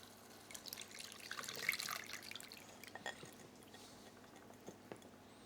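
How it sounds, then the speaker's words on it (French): Coconut milk poured into a relatively small cooking pot for a red curry beef dish, a soft liquid trickle and splash swelling near the middle and then easing into faint drips, with no talking. "ici directement je verse la totalité du lait de coco"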